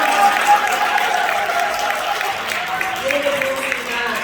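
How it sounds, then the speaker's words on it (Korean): Audience applause welcoming a pastor to the stage at a Seoul city prayer breakfast, a steady wash of clapping from a sizeable crowd that holds throughout. "여러분들 박수로 환영해 주시면 감사하겠습니다"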